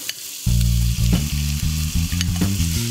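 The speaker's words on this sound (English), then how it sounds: "Rice, brown rice, into the pan." Brown rice hits a hot pan with sausage and beans, setting off a loud, steady sizzle punctuated by a low hum and the scrape and clatter of stirring, with no voices.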